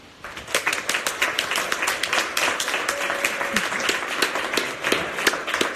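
A presentation audience, asked to imitate restrained Dutch-style applause, claps together on cue, a fairly loud, even, sustained clatter of many hands throughout.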